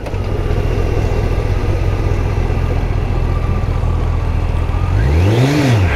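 A Honda CBR1100XX Super Blackbird motorcycle engine runs with a steady loud drone, then revs up and back down in one swelling rise near the end, close by with no talking.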